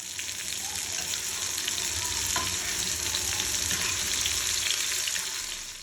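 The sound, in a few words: chicken breast pieces frying in hot oil on high flame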